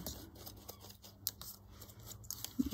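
Scissors snip along the edges of paper craft tags for autumn-themed gel-press and embossed die-cut projects, with a few quiet, close cuts and soft paper rustles in an otherwise hushed room.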